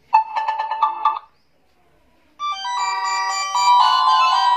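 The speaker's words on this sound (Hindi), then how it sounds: "आपको मैं बजा के दिखा देता हूँ इसकी रिंगटोन कैसी बजती है" A Vgo Tel i251 mobile phone ringtone plays a bright, beeping melody, pauses briefly, then resumes as a louder, sustained electronic tune.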